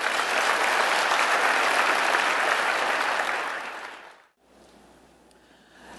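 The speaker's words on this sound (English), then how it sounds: "Clap your hands if you're willing to commit to that." A seminar audience claps hands in a full, even burst of applause lasting about four seconds, then dies away quickly into a quiet room murmur.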